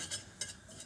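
A utensil stirring flour into melted butter in a pan, three soft, quiet scraping strokes in a regular rhythm, close by with no voices.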